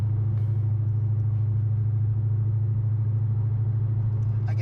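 A Dodge Hellcat muscle car engine idles with a steady, deep low rumble, close and constant throughout with no talking.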